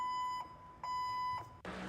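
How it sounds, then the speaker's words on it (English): An electronic reversing beep like a forklift warning, three steady pulses followed by a burst of noise, moderately loud and with no talk. "We pull out the old forklift beep here."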